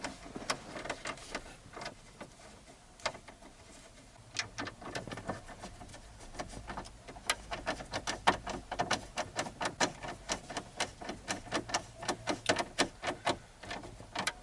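Small bolts are tightened on a Dodge Ram dash radio mount with rapid, close ratcheting clicks that speed up into dense runs of sharp ticks over a faint background.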